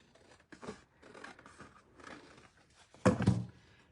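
Scissors trim the inside of a paper tag book with a few soft snips and paper rustles, then a sharper, louder cut near the end, all close up.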